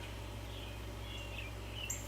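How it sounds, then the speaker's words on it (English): Birds sing outdoors at sunrise, a few faint high chirps and whistles scattered over a steady low hum, with no talk. "The birds are really singing today"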